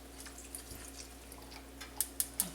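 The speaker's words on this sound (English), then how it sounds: "So I'm going to pour a little in." Chicken broth poured into a pot for potato soup, a quiet liquid trickle ending in three distinct drips, with no talk.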